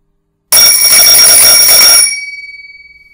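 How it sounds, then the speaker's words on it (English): An old Express Lifts floor lantern bell rings loudly and continuously for about a second and a half on rippled power, a buzzy steady ring with a bright high tone, then stops and decays away to silence. "that bell is just ringing"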